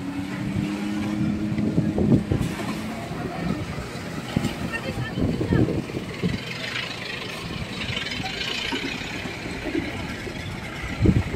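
A large barge rides the choppy sea off Samal Island, Davao, with a steady low engine rumble and wind buffeting the microphone. People talk over it.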